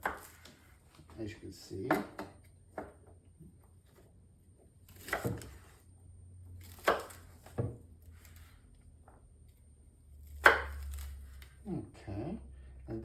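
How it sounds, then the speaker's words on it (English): Knife cutting firm asparagus diagonally into small sections on a board, a handful of sparse, sharp chopping knocks spaced apart, with someone talking quietly in between. "I want to create relatively small sections of asparagus on the diagonal, which I'm doing here"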